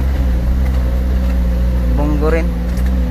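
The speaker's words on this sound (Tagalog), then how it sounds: "Ngayon may makasalubong kaming sasakyan." An oncoming vehicle approaches on a narrow, steep and muddy mountain road, its engine a low steady hum that rises slightly toward the end, with people talking over it.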